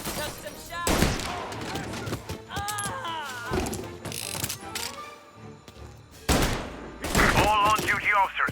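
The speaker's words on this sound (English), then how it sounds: "All on-duty officers, gunshots being reported." Bursts of gunfire in Mafia: Definitive Edition crack and rattle amid loud action noise, with shouted voices and mechanical clatter mixed in throughout.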